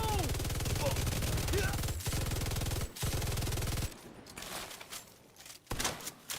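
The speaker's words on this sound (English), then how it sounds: "I'm just gonna keep firing quite often," Rapid automatic gunfire from a weapon in a PvE shooter video game, loud sustained bursts broken by brief pauses, then quieter scattered shots and clatter toward the end.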